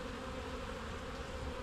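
A close, unbroken hum of honeybees rises from an open hive during a spring inspection, the insects droning steadily around a frame of drone comb.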